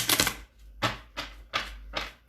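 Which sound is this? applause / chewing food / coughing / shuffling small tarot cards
shuffling small tarot cards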